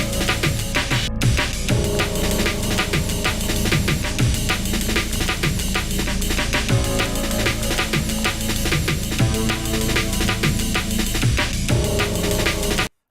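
Breakcore music plays throughout: a dense, heavily compressed drum loop with rapid choppy breaks and layered synths, loud and unbroken until it cuts off abruptly at the very end.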